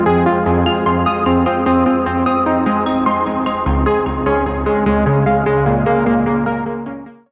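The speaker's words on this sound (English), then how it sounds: "Here you will hear it now with arpeggio on" Synthesizer arpeggiator running a random pattern across several octaves, rapid notes stepping continuously through a chord with a change partway through, loud and alone before a short fade at the end.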